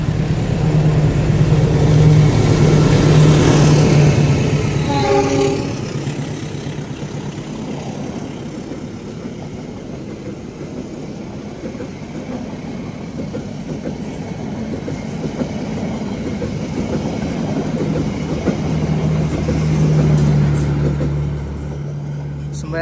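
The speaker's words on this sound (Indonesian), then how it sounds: "KA Ciremai melintas." The KA Ciremai passenger train rumbles past on the Padalarang line, loud and near at first with a horn-like tonal blast, rhythmic wheel clatter continuing as the cars roll by, then fading and swelling again.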